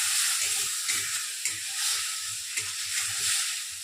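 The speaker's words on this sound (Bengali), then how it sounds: "এর মধ্যে আমি এটা দিয়ে দিচ্ছি, দিয়ে মশলাটাকে ভালো করে কষতে হবে" Spice paste of ground coriander and cumin fries in a pan for a vegetarian kofta curry, a steady bright sizzle with soft rhythmic scraping and stirring knocks, close and alone.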